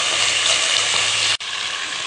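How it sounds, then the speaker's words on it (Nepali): Chicken pieces fry in hot oil for a Bhutanese curry, giving a loud, dense, continuous sizzle close up, broken by one brief dropout partway through. "अब कति फर्स्ट चाहिँ तेलमा फ्राई गर्छु"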